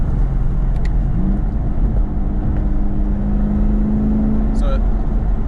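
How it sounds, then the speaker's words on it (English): A Chevrolet Camaro ZL1 with a cold air intake, heard from inside the car as a loud engine drone with intake noise and a rising supercharger whine, steady tones under a rumbling road background. "you hear the intake at first, and then the supercharger sound kicks in"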